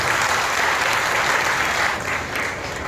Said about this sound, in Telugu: ఒకసారి బిగ్గరగా మన ప్రభువుకు చప్పట్లు కొట్టి